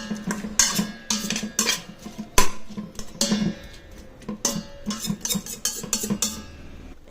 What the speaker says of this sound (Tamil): இப்போ இதை எல்லாத்தையும் நல்லா கலரிட்டு மூடிக்கலாம்.